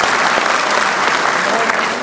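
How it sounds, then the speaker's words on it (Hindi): Sustained loud applause from an audience at a cancer survivors' day celebration held by a cancer hospital, dense steady clapping throughout without a break. "एक बार अपने लिए जोरदार तालियां होनी चाहिए।"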